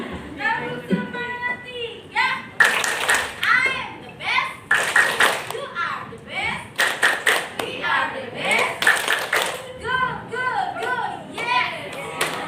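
A group of children clapping out a count in bursts of rhythmic claps, separated by kids' voices chanting and talking, close and lively.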